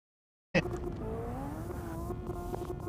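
Lamborghini race car in a racing game replay at Mondello Park, its engine a steady loud drone with rising and falling pitch sweeps as it accelerates and shifts, running continuously after an abrupt start.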